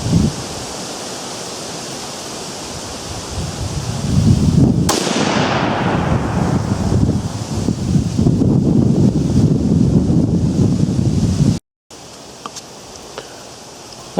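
A single sharp rifle shot cracks out while zeroing a Leupold VX-2 scope, followed by a long rumbling decay through gusting wind noise, then a brief cutout and quieter outdoor ambience.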